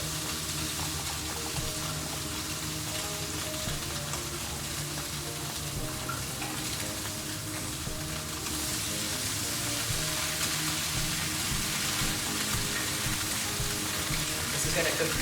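Blackened red snapper coated in seasoning searing in a very hot pan, a dense, steady sizzle that holds loud and even throughout without pause, with no speech.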